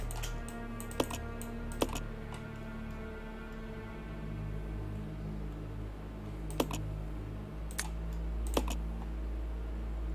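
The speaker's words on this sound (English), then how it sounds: "There's a typewriter in here. We'll save our game real quick." Typewriter keys struck at the save point in Resident Evil 0, a handful of sharp clacks spread irregularly over a steady low background hum, each strike crisp and fairly close.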